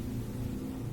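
A person's stomach rumbles in a low, continuous gurgling drone that holds steady for about a second, faint and close, with no talking.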